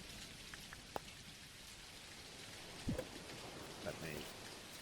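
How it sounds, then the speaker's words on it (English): Thunderstorm rain in the video game Dinkum patters steadily as a soft, even hiss of falling drops, faint and continuous with a few small knocks. "Sit outside in a thunderstorm."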